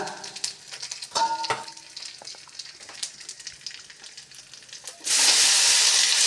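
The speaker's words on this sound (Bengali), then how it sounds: "শুকনা লঙ্কা দিয়ে দিলাম। এখন পাঁচফোড়ন দিয়ে দিলাম।" Panch phoron spices and dry red chillies sizzle in hot oil for a fish curry with raw banana, papaya and tomato, with crackling pops and stirring clatter, then a loud steady fry hiss surging near the end.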